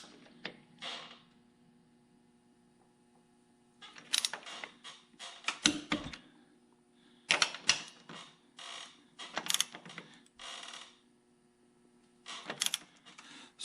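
Ratchet wrench tightening John Deere mower bolts, with bursts of quick clicking and creaking in several separate spells between quiet pauses, close and fairly soft.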